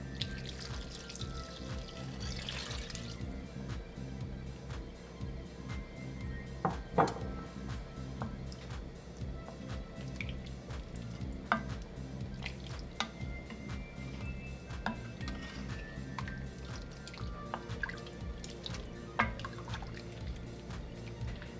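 Wine pours into a pot of beef bourguignon stew, a long, close liquid stream with scattered drips, splashes and a light sizzle underneath.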